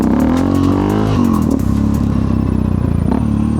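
A Yamaha XT660X motorcycle engine revs hard in first gear as the rider lifts into a wheelie, a loud close roar with rising and falling pitch and some clatter, heard alone.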